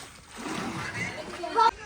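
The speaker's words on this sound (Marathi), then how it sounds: "माझ्या अंगावर उडू नको पाणी" Water splashes in a swimming pool at a farmhouse in a short, sloshing burst close by, ending in a sharper splash, while people talk over it.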